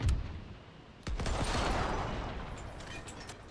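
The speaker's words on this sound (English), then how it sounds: "Lost almost 50 cannons in that one broadside." Naval broadside cannon fire in The Great War 6.0 strategy game: a sudden loud, massed volley of cannon blasts erupts and rolls into a sustained rumbling roar of overlapping shots that slowly fades, with no speech.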